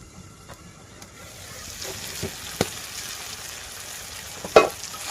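Turmeric-spiced masala with tomato sizzles and fries in oil in a pan for a village-style baim fish curry, a soft continuous frying hiss with occasional clinks and scrapes of stirring, one sharper knock near the end.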